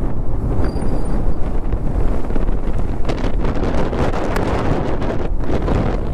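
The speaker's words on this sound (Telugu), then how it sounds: "చాలా ఫోర్స్ వస్తుంది గాలి." Strong gusting wind on a road between mountains in Ladakh during a TVS Raider 125 motorbike ride, a loud continuous buffeting rumble over the microphone with no pauses and no talking.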